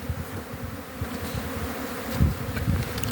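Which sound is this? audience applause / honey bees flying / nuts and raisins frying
honey bees flying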